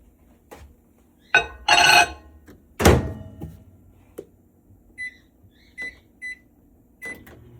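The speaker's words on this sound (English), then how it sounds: "We're going to put in the 5 tablespoons of butter into the microwave so that it can be nice and" A microwave oven softening five tablespoons of butter for a sweet potato pie: a door thunks shut, a low hum runs briefly, and a series of short beeps sound, close and clear.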